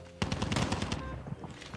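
A RUS-79U submachine gun fires in Call of Duty Mobile, a fast, sustained burst of rapid shots, loud and close, tailing off into quieter sporadic pops.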